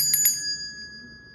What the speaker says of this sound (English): I just heard ring the bell, so that's exactly what I'm about to do